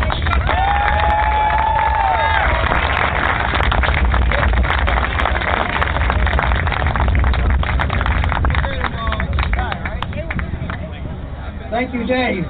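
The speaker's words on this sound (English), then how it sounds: "Ladies and gentlemen, a big round of applause for We the People's" A rally crowd cheers and applauds at an outdoor freedom rally, a loud sustained wash of clapping, whoops and shouts, with a voice briefly audible over the din.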